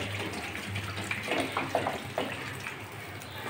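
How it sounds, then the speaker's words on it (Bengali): Water is poured from a vessel into a pot of cooking tomatoes, drumstick pieces and potatoes, a close, moderately loud splashing gush with a few gurgles that fades toward the end. "এবার আমি জল দিয়ে দিচ্ছি"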